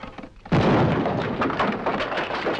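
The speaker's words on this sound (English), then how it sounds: "And the first explosion goes off." A bomb goes off in a Hitchcock television episode: after a quiet half second, a sudden loud, close blast erupts and rolls on as a sustained heavy rumble, with no talk.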